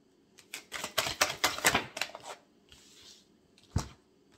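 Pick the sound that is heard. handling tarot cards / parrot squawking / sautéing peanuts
handling tarot cards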